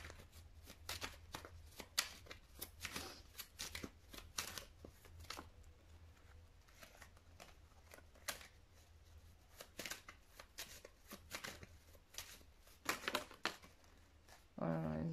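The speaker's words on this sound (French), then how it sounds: "J'ai toutes les cartes qui tombent en même temps" Tarot cards being shuffled, a rapid close series of crisp riffling flicks and slaps, uneven in rhythm, with a soft voice talking faintly underneath.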